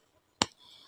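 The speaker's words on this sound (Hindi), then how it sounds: "उस परछाई यानी डार्क सोल के लीडर ने ताली बजाई।" A single sharp hand clap from the leader of a shadowy group in a dramatized story, a short crisp burst standing alone before a faint hum.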